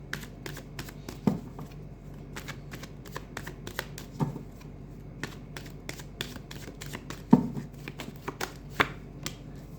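Tarot cards are shuffled and drawn nearby, giving sharp irregular riffles and flicks with scattered slaps as cards are laid down, with no talking over them.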